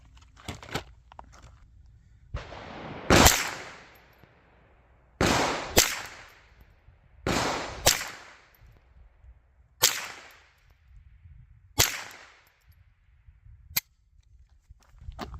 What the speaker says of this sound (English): I'm going to use my Ruger 1022 today with an 18-inch barrel.